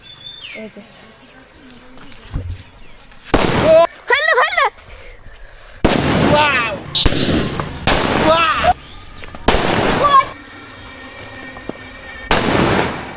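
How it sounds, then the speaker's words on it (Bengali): Firecrackers set off outdoors on Eid, a series of loud sharp bursts and crackling pops at irregular intervals, some with whistling fizz, with people talking and shouting between the blasts. "এই যে গাইস আমরা এখন বোম ফুটাবো।"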